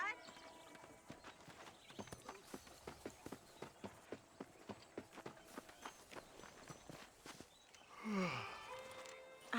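Horse hooves clip-clopping at a steady walking rhythm in the Red Dead Redemption Western video game, a long run of evenly spaced, moderately close hoof strikes, ending in a brief louder burst.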